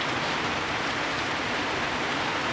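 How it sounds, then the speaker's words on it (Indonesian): Steady rain falls in the morning at a mushroom-growing site, a dense, unbroken hiss that stays even and fairly loud throughout with no voices. "Cuacanya hujan."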